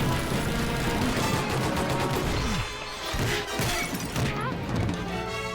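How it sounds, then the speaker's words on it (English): A Family Guy cartoon fight scene with gunfire, melee blows and explosions, loud and chaotic, with crashes, smashing impacts and rapid shots piling up throughout. "From guns to melee to explosions, that was total cinema."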